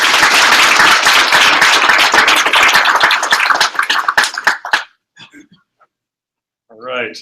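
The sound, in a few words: audience applause at a tech talk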